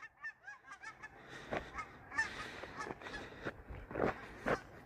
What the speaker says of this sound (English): Mighty duck V formation.